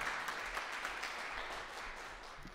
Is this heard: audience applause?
yes